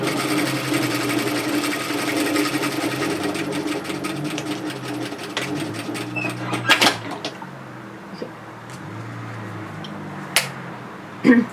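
A sewing machine runs steadily, stitching a seam down the leg of loose-fitting bib overalls, then slows and stops with a few short back-tack bursts and quiet clicks near the end.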